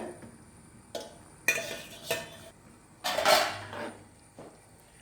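Stingray fish curry, Kerala style, stirred gently in a pot: a few separate scrapes and clinks of a utensil against the pot, with a longer, louder scrape in the middle and quiet pauses between, no voices.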